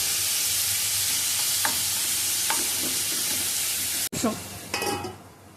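Chopped tomatoes tipped into hot oil with fried onions give a steady loud sizzle, with a few spatula scrapes while stirring and a sudden burst of fresh crackling as they land.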